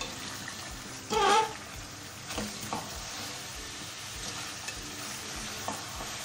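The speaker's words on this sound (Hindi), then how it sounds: "तो अभी आप इसको ऐसा करेंगे कि थोड़ी सी इसकी भुनाई करेंगे" Masala sautéing in a pot for degi-style chicken korma: a steady close sizzle with a loud metal clank of a spoon against the pot early on, then softer scraping strokes spaced out over the rest.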